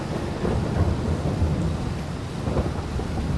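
Steady rain falls in a farming video game, a dense, even hiss with low rumbling underneath, continuous and alone, with no talk.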